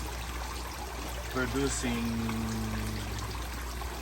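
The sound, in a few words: water falling into crayfish pond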